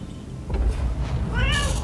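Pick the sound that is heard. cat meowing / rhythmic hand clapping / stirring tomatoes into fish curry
cat meowing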